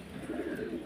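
Mundian pigeons at a pigeon farm give a short, low cooing call, close and steady over a faint background hiss.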